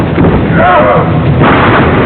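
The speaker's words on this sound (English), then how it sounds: "A microphone sends those crashes and bangs through the arena's speaker system, amplifying them 100 times over." Crashes and bangs from a wrestling ring, picked up by a microphone underneath the ring and amplified through an arena's speaker system. The result is a loud, dense, booming roar that continues without a break for the whole stretch.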